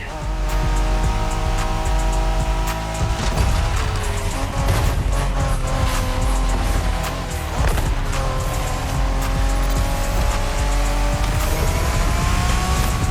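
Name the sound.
street race cars in video game The Crew Motorfest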